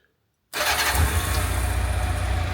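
A 1992 Honda CB750 Nighthawk motorcycle engine cranks and catches after a moment of silence, then runs loud and close with a rough, slightly uneven idle.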